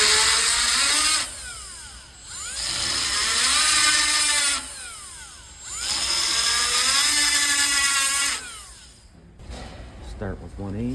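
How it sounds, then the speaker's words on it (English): A power drill bores out rust-corroded differential cover bolts on a car, whining loudly in repeated bursts of a few seconds with short pauses and rising and falling pitch, close to the listener. "So we're just gonna drill them out."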